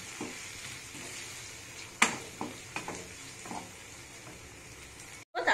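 Chopped tomatoes sizzle steadily in a pan for prawn thokku while a utensil stirs, with a few sharp scraping clicks and a brief clatter near the end.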